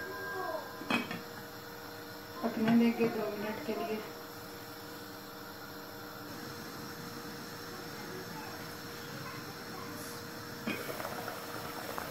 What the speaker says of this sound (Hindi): पानी उबल गया है